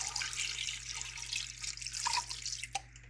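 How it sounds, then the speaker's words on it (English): Water splashes and trickles into a cooking pot of meat and seasoning for Nigerian/Cameroonian okra soup, a steady close pour with a few drips near the end, no voices. "Put in some water."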